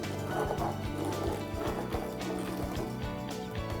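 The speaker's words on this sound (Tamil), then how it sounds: "அது திக்காகிற வரைக்கும் கிளறிட்டே இருங்க." Thick urad dal kali gets stirred in a pan, giving steady wet squelching and slapping strokes in a repeating rhythm, close and moderately quiet with no voices.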